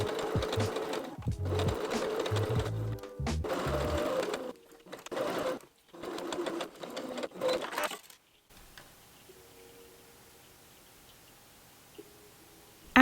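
A home sewing machine stitches a curved seam on a child's bubble frock, running in several loud whirring bursts with short pauses between them, then stopping for quiet near the end.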